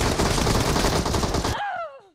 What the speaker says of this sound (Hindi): अरे यार ये स्लो वाली बंदूक है, मतलब थोड़ी सी ना स्लो गोली चलाती है।